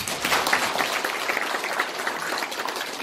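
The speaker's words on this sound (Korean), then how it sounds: "박수합니다." Applause at a Korean seminar where a member of the National Assembly is introduced, a dense, steady burst of clapping from a room full of people that continues throughout.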